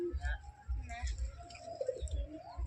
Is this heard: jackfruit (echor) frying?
no